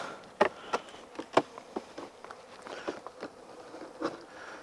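Honeybees buzzing around an opened hive during an early spring inspection, a soft continuous hum with scattered close taps and knocks from handling the boxes, no voices.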